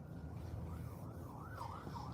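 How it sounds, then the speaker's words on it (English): Distant wailing siren rising and falling in slow sweeps, faint over a low traffic rumble. "Y'all hear them sirens as confirmation?"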